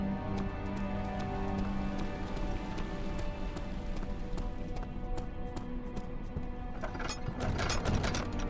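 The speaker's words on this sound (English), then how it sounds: "it's raining again" Steady heavy rain from the game Amnesia: The Dark Descent, a dense continuous patter of drops on surfaces that swells louder near the end, with a few sharp clicks mixed in and no talking.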